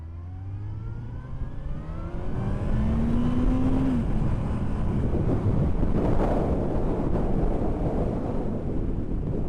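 A motorcycle pulls away in first gear, its engine note climbing steadily in pitch as it accelerates, loud and close, with heavy wind rushing over the microphone as speed builds.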